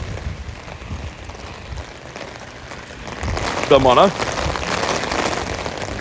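Heavy rain turning to hail drums steadily on a surface, growing louder and denser partway through, with someone talking over it.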